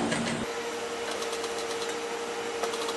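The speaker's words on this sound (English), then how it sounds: "We're doing the second top stitching." A sewing machine runs a second line of top stitching along a pants zipper placket, a steady close mechanical whir with faint rhythmic ticking, no voices.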